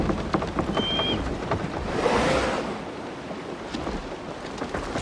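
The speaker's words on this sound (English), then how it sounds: "Just listen to that rain." Steady rain pours down in Assassin's Creed Shadows, a dense, even wash of noise that holds for several seconds with no speech over it.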